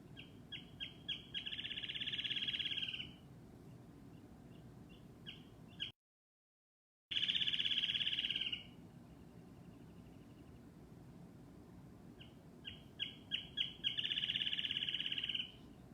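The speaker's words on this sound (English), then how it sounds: "that is a really awesome bird call, and one of the first bird calls that I ever learned" A wild bird sings outdoors, each phrase opening with a few quick sharp chips that run into a buzzy trill. Three such songs come from moderate distance with quiet pauses between them, and no one speaks.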